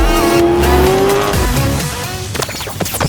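A turbocharged C5 Corvette engine revs loud and close, a rising whine over a throaty drone, then settles into lower rumbling and crackles.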